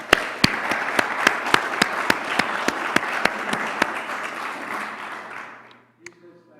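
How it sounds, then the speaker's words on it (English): Audience applause fills a hall at a media awards event honoring journalism, a steady crowd clapping rhythm with sharp nearby claps standing out, fading out near the end before a brief voice. "if we could give a round of applause"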